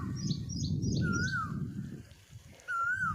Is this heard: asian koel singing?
yes